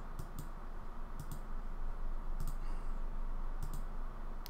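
Computer mouse clicks come in crisp double-click pairs at roughly one-second intervals, close and distinct over a steady background hum, with no talking.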